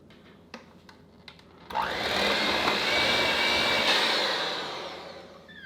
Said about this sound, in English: we're going to go give this a mix with our electric mixer.